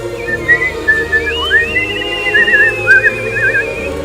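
High, clear whistling from the game Bioshock Infinite Burial at Sea: a gliding, warbling melody of short trilled phrases held over a steady low background hum.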